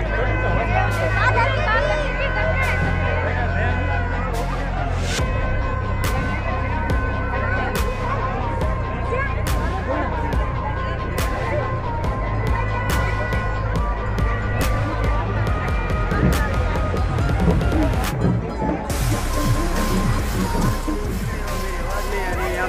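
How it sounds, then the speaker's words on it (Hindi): Packed crowd noise at the Salawas village Mataji temple fair: steady babble of many voices mixed with sustained tones and passing vehicle rumble, loud and unbroken throughout. "तो गाइस देखो कितना भीड़ है यहाँ पर।"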